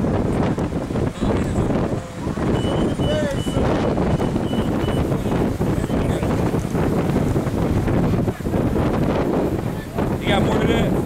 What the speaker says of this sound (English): it's just distracting, ain't it? All this wind.